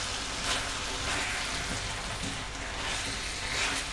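Steady sizzling rises from a stir-fry pan with the heat turned off, a continuous hiss with soft stirring scrapes throughout, close and moderately loud.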